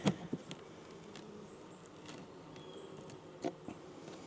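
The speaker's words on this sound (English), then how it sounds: "And so far, very gentle bees." Honeybees hum faintly and steadily around an opened swarm box with a wonky comb frame, a soft drone with a few sharp knocks from handling the box near the start and again later.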